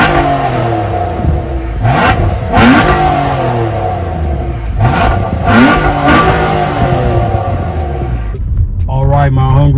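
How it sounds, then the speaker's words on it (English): A 2022 Nissan Maxima SL engine revs up twice in rising surges, loud and close, with a dense harmonic drone throughout. "we are driving the 2022 Nissan Maxima SL"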